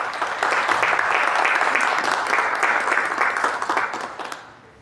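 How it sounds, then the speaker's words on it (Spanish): Audience at a book presentation applauding author Mercedes Ceballos, a full round of clapping that holds steady and then fades out at the end. "Un aplauso para ella, por favor."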